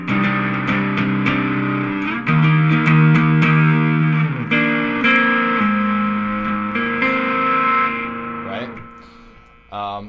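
Electric guitar plays the rocking outro chords of a song, with distortion and reverb-heavy effects; sustained strummed chords ring and shift across several changes, loud and close, with no other instruments.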